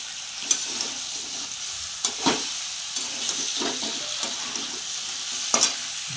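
Spices with cauliflower are stir-fried (kosha) in a karai for curry. A steady oily sizzle is punctuated by repeated spatula scrapes and knocks against the pan.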